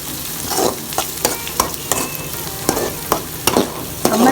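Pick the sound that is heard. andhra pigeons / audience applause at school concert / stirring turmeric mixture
stirring turmeric mixture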